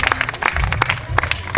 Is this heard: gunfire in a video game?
no